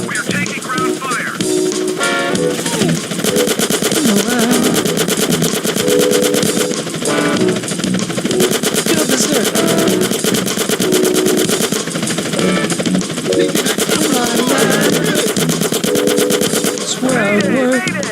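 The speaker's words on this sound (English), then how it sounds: "We are taking ground fire." Sustained machine gun fire in the video game Grand Theft Auto: San Andreas, loud, continuous rapid bursts over a dense game mix of music and effects for the whole stretch.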